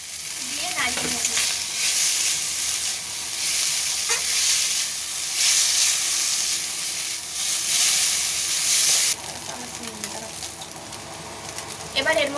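Chowmein noodles are stir-fried in a hot pan with a loud, continuous sizzle and hiss, broken by scraping stirs and clanks of the utensil, the frying dropping slightly in the final seconds.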